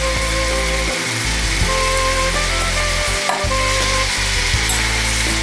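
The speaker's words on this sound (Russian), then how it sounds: "На нем мы сейчас с вами будем обжаривать муку." Flour sizzles in melted butter in a pan while being stirred for a sour cream and tomato sauce, a loud, continuous crackling fry broken by occasional scraping strokes of the spoon.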